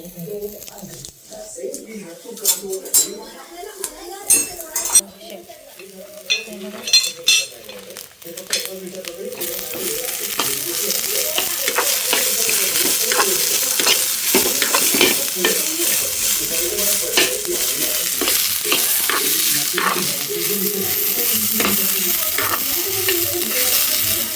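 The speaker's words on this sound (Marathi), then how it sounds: "मी टाकले ह्याच्यामध्ये लसूण शेंगदाणा सुकं खोबरं टाकलंय आता कांदा टाकते कापलेला आणि हे मिक्स करून" Garlic, peanuts, dried coconut and chopped onion stirred and fried in a pan: scattered clinks of a spoon against the pan at first, then a loud continuous sizzle with ongoing stirring, while someone talks over it.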